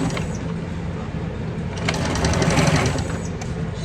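Sewing machine running steadily while back stitching a handbag, a continuous close mechanical whir with rapid needle rhythm that briefly picks up and swells before settling.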